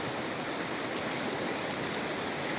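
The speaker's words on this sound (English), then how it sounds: "The Truckee River was running fast and loud" The Truckee River rushes fast and loud in a dense, steady roar of flowing water, unbroken and close.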